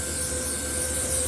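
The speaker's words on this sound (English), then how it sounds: "I'm just going to spray some spray adhesive like this multi-purpose right here." A steady, close hiss of multi-purpose spray adhesive from an aerosol can, misted onto the back of a classic Ford Mustang carpet panel in one continuous burst.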